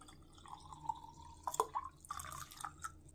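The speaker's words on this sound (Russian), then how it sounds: "Заливаю горячей водой обязательно." Hot water pours into a cup in a thin trickle, with small splashes and drips toward the end.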